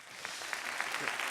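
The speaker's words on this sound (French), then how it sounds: "qu'on applaudisse aussi l'équipe de tournage" An audience at a conference interview applauds the film crew, a short burst of faint, fairly distant clapping with no voices.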